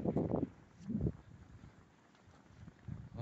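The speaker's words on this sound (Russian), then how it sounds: "Слышно ветер." Winter wind gusts buffet the microphone in low rumbling bursts, rising and falling, with quieter stretches between gusts outdoors.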